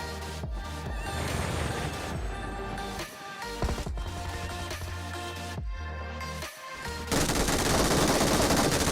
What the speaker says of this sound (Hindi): तो तभी मुझे पीछे से एक बंदा फायर देता है